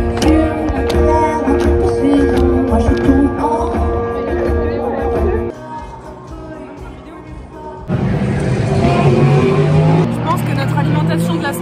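Race cars roar past during a race, loud engines rising and falling with a quieter stretch midway before another car surges through, and people talk and exclaim over the noise.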